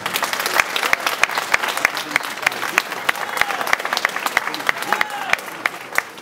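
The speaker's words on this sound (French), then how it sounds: "je vous demanderai de les applaudir pour les encourager" An audience at a festival opening applauds steadily, a dense wash of clapping hands from a crowd that holds its level throughout the stretch without a voice over it.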